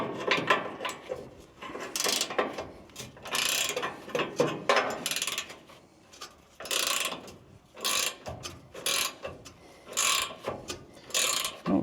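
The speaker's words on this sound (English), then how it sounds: "now we'll grab the ratcheting wrench" A ratcheting wrench turns a bolt on a 1967 GMC bumper bracket, giving repeated bursts of close, crisp metallic clicking separated by short pauses, with no talking.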